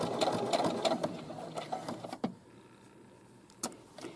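A sewing machine runs close by while stitching a hem, giving a quick mechanical whir for about two seconds before stopping, followed by a few faint clicks.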